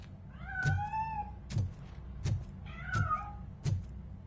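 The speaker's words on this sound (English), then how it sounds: "That cat must be hiding inside." A cat meows twice, each a rising-and-falling cry, close by, over a steady low hum and a series of regular dull thumps roughly every 0.7 seconds; no one speaks.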